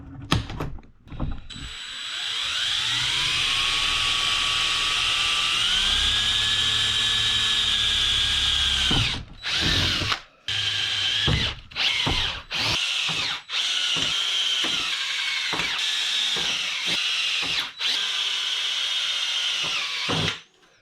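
A power drill bores holes in a Lexan rear hatch window on a Jeep XJ Cherokee, a loud sustained whine that ramps up in pitch, then short on-off bursts as the bit starts and stops.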